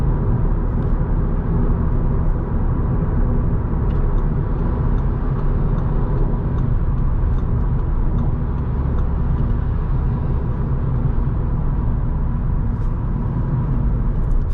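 A 2020 Audi A3 Sportback 35 TFSI S Line, 150 hp with a six-speed manual, cruises on the road, giving a steady, loud low rumble of engine and tyre noise with no breaks and no talking.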